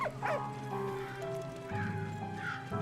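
A dog in the World War I video game Valiant Hearts gives a few short barks and yips mixed with horse-like whinnies and hoof sounds from the game, moderately quiet.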